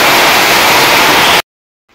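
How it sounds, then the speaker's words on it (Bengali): Heavy rain pours down in a dense, loud, even hiss that cuts off abruptly to silence after about a second and a half. "প্রচন্ড বৃষ্টি, জোরে বৃষ্টি চলে এসছে"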